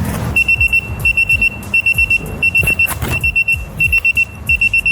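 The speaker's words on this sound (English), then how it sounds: "As you can see, the alarm went off, so it's still in range for connection." A car tyre pressure monitoring alarm sounds in short bursts of rapid electronic beeping that repeat in a steady pattern, loud and close, over a low rumbling background.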